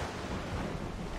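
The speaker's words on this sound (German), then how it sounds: "jetzt haben wir natürlich wieder so einen Wind" Wind and waves at sea in the video game Assassin's Creed IV: Black Flag make a dense, steady rushing roar, with no talking.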